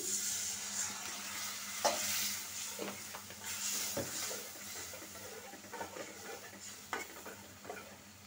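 Spices are sautéed and stirred in a pan for a hilsa fish and ash gourd curry, giving a steady sizzle and hiss. Occasional scrapes and knocks of the utensil against the pan come through close up.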